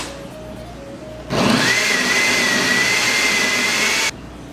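A blender kicks on loudly for about three seconds, whirring steadily as it chops green seasoning herbs for a Trinidadian recipe, then stops abruptly, with a quieter hum before and after.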